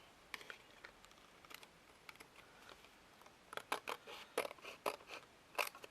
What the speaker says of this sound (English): And I'm going to cut mine in half.